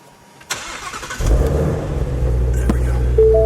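A 2017 Ford Mustang Shelby GT350R in white cranks with a short starter whir, then fires into a loud, deep idle rumble that settles and holds steady, heard up close.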